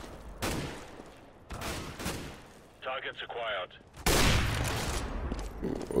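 Loud gunshots ring out in the video game CS GO, several sharp blasts with decaying echoes spaced across the moment, a short burst of speech-like sound between them.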